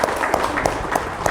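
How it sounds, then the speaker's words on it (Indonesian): Applause from an audience at an Indonesian Ramadan community program, a short burst of rapid, fairly close hand claps with some talk mixed in. "Boleh tepuk tangannya juga."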